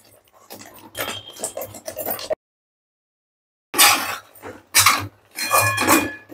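A coconut burfi mixture with ghee being stirred in a pan: bursts of close scraping and clinking, a short silent pause, then more scraping strokes.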